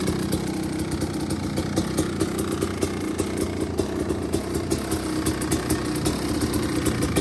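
Two-stroke Kawasaki KX500 dirt bike engine running steadily, a loud close continuous rumble with a fast even pulse and no talk over it.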